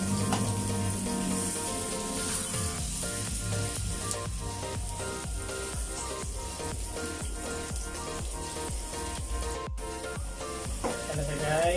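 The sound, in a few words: garlic sizzling while frying in a pan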